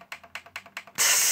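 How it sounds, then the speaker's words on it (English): Repeated button clicks on a Sony SLV-D350P VCR/DVD combo that will not turn off, five quick close mechanical clicks at a steady rhythm, then a sudden loud broadband hiss. "I'm clicking it as much as I can"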